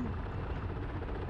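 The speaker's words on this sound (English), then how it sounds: "I think the people coming out of that helicopter do." A military helicopter in the Arma 3 combat game gives off a steady, loud rotor and engine rumble that fills the whole short stretch without a break.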